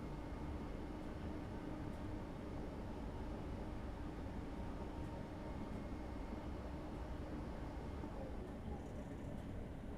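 A Class 313 electric train running on the Moorgate to Welwyn Garden City route in Train Simulator 2017 gives a steady, even rumble from the cab that continues unchanged throughout.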